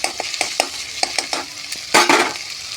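Garlic paste stirred and frying in a pan, giving a steady sizzle broken by a series of sharp spoon scrapes and clatters, with a louder burst of sizzling toward the end.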